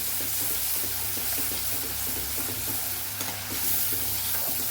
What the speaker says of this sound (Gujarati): પાણી બળી જાય ત્યાં સુધી આપણે લસણવાળી ચટણીને સાતળવાની છે, એટલે કે આપણે આ મસાલો સાતળવાનો છે।